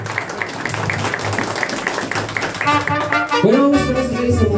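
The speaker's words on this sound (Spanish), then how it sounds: "Ese aplauso bien bonito para nuestra compañera" Audience applause for a female member of a mariachi band at a birthday celebration, a steady patter of clapping under a voice, followed by instruments starting to play.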